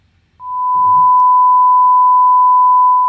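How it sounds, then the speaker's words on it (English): A pure 1000 hertz sine tone starts abruptly and holds steady and loud to the end, with a faint low rumble briefly underneath. "1000 hertz, sounds like this."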